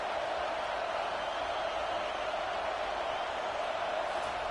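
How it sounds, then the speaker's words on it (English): A stadium crowd at a football game makes a steady, distant roar of massed voices, an even wash of noise with no distinct peaks or individual calls. "This crowd bringing the energy and noise early."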